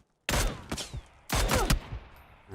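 Gunfire in PUBG comes as two close, loud bursts of rapid shots separated by a short gap, each ringing out sharply after a moment of silence, with no speech.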